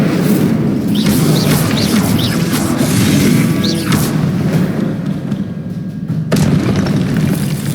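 Loud, dense booming blasts of fire and explosive spells in a Harry Potter video game outdoor battle, a sustained roar of crashes and thumps filling the whole stretch with no talk.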